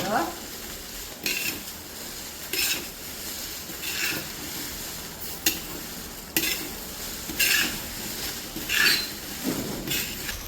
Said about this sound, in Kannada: ಈಗ ಒಣಮೆಣಸು ಹಾಕ್ತಾ ಇದ್ದೇನೆ.